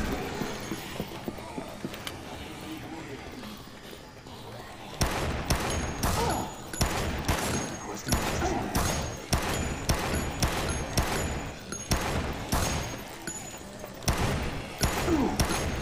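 Gunfire in the video game Dead Rising: rapid, irregular volleys of loud shots crack over a dense, noisy game background, starting sparse and then turning into sustained fire.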